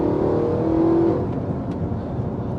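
A loud Audi R8 V8 engine with a manual gearbox pulls hard with a steady droning roar, then the pitch drops slightly as it shifts up into third gear and keeps accelerating.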